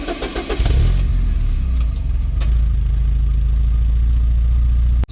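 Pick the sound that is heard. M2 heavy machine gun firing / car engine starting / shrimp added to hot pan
car engine starting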